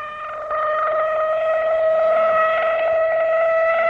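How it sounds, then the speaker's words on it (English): A civil defense siren wails in a steady, sustained tone with rich harmonics, loud and unbroken throughout, carrying an echoing, open-air quality. "But tomorrow, this siren may mean the real thing."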